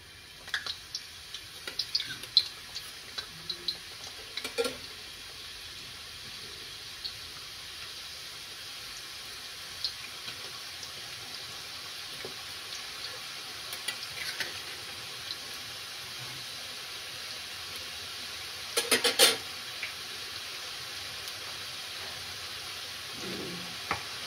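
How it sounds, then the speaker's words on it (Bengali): Bengali nimki dough pieces fry in hot oil with a soft, steady hiss. Scattered small pops and crackles sound throughout, and a brief louder burst of bubbling comes late in the stretch, with no talk. "এখন আমি নিমকিগুলো দিয়ে দিব। অল্প অল্প করে দিয়ে ভালো করে ভেজে নেব।"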